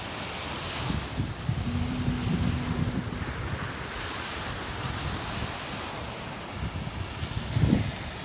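Ocean waves washing on a beach at Pattaya, Thailand, amid wind buffeting the microphone, a continuous roar with a louder surge near the end.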